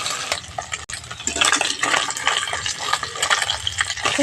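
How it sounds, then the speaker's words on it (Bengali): Fish frying in a pan for a Bengali dish, a steady broadband sizzle with stirring and utensil scrapes throughout, close and fairly loud with no talking. "মাছগুলো ভালো করে লাল লাল করে ভেজে নিতে হবে।"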